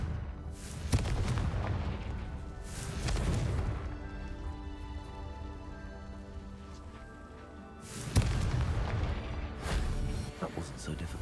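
Confringo fire spell cast in Hogwarts Legacy, heard as loud booming blasts with rumbling crackle, a burst near the start and another around eight seconds, with a sustained tonal game score between them.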